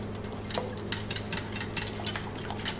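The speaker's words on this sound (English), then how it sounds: "now just go ahead and whisk everything together" A whisk beats eggs and vanilla in a bowl, giving quick irregular light clinks and taps against the sides over a low steady hum, with no one speaking.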